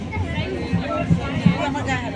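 A close crowd murmur of overlapping chatter and voices fills a packed train carriage, steady throughout with a few louder bumps.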